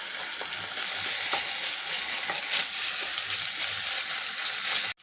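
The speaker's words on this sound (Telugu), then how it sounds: "ఆనియన్ వేస్తున్నాను, కరివేపాకు వేస్తున్నానండి, అల్లం వెల్లుల్లి పేస్ట్ వేస్తున్నానండి" Onion, curry leaves and ginger garlic paste sizzle steadily in a hot pan, a continuous close frying hiss with faint stirring taps and no talking.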